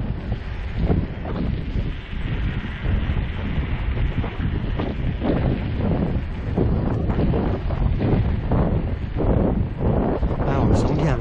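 Heavy wind buffets the microphone continuously while a mountain bike rolls along a track at around 26–27 km/h, loud and close throughout.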